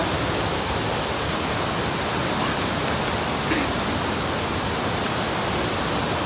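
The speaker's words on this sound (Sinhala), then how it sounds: "ඇලේ වතුර වැඩි ගොඩක් අද මේ දවස්වල වැස්ස අපේ පැත්තට" Steady, dense rush of a rain-swollen stream fills the whole clip, a constant broadband roar with no pauses, like a fast stream close by.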